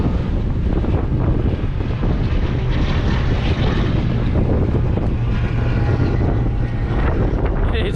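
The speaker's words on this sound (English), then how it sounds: "It's very windy." Strong wind roars steadily at Nashville Superspeedway during a track night, a loud, continuous blustery rush buffeting the microphone, with a faint low hum running underneath.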